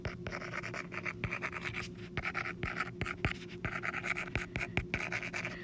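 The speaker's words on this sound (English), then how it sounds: "then we'll just write the inequality in here" Pen or pencil writing an inequality by hand, heard as a busy string of quick scratchy strokes and sharp taps, close and fairly quiet over a faint steady hum.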